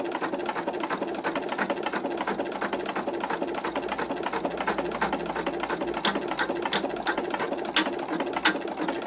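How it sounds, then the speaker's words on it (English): An embroidery machine sews two lines of an orange peel shape, a steady fast mechanical stitching rattle with sharp needle clicks throughout, close and continuous with no voices. "It's going to embroider 2 lines."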